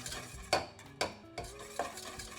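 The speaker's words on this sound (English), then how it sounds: "I'll add my corn flour and whisk gently" Corn flour being gently whisked into a raspberry soufflé mix in a pot, with three distinct clinking strokes over a soft low bubbling, quiet and close, no voices.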